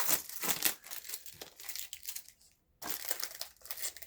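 A Blu-ray package being unwrapped, with crinkling and crushing plastic wrap heard close up in busy bursts, a brief quiet gap near the middle, then more handling.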